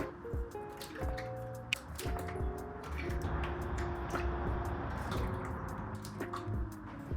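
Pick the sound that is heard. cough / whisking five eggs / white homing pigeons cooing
whisking five eggs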